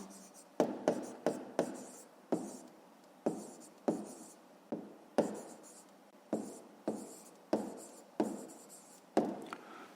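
An answer is handwritten on paper during a fifth-grade maths exercise: repeated short scratchy pen strokes, each a sharp onset that fades, in a steady close rhythm with no talking.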